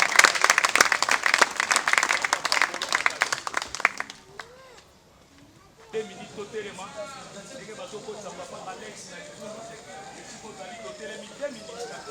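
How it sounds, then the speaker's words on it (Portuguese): A funeral congregation claps loudly in a fast, dense burst that stops abruptly after about four seconds. A short lull follows, then voices and singing continue through the rest of the clip. "Bate palmas fortes pela glória do Senhor."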